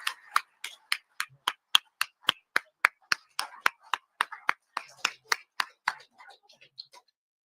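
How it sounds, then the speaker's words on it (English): Applause for two panelists, Theodore Postol and Colonel Wilkerson, at a National Press Club event, heard as sparse, crisp individual claps in a steady rhythm, close and fairly faint, fading out toward the end with no talk. "I'd like everybody to give applause to Theodore Postol and Colonel Wilkerson"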